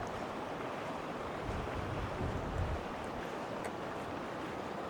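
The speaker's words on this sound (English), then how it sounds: "we'll take a look at this river" River in Livingston, Montana, running high in spring, a steady broadband rush of flowing water with some low wind buffeting, moderate and continuous without talk.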